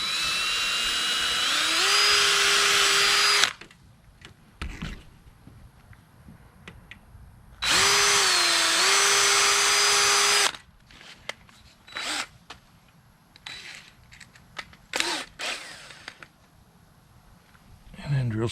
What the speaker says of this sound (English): Pre-drill that hole.